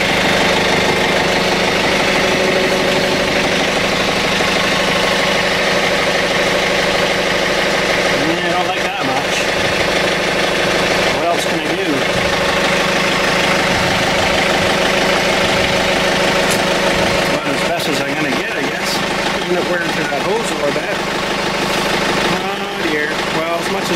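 A John Deere 110 TLB tractor engine runs steadily at a loud, close idle with a constant rumbling drone and a few brief clanks and shifts in tone, while someone speaks intermittently over it.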